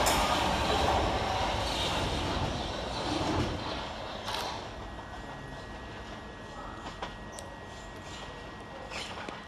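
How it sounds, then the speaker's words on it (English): Southeastern Class 377 electric multiple unit pulling away from Gillingham station in Kent, a steady rumbling roll with faint wheel noise and a thin high whine, heard from across the platforms and gradually fading. "Over on the far side departing is 377515, working the 1645 Southeastern service to London Victoria."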